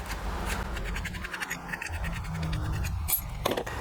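Metal wrench scraping and clicking on long bolts as they are worked loose from a Briggs & Stratton riding mower carburetor, close and steady with small irregular scratches throughout.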